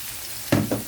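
Chopped garlic cloves and grated carrot hit hot oil in a pan, bursting into two quick loud sizzles over a low steady hiss.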